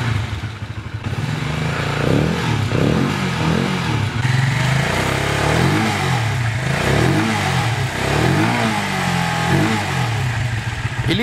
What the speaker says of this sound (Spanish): Le damos un poquito de gas porque claro,